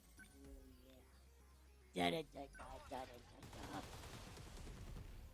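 A dog in the video game 13 Sentinels: Aegis Rim gives a short burst of loud barks midway, followed by a few softer yelps over steady game sound.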